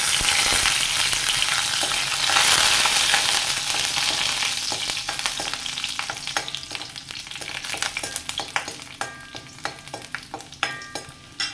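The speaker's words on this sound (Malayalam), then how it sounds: "ഇനി അരിഞ്ഞു വെച്ചിരിക്കുന്ന വെളിച്ചുള്ളി കറിവേപ്പില ഇട്ട് കൊടുത്തു" Chopped garlic and curry leaves frying in hot coconut oil for an egg curry, a bright, loud crackling sizzle that gradually settles, with increasingly frequent sharp pops and spatula clicks toward the end.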